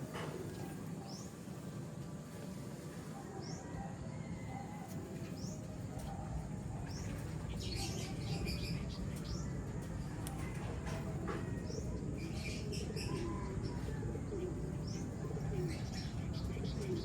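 Racing pigeons in a loft give soft coos and scattered chirps, faint against a steady background hiss, with occasional low murmurs.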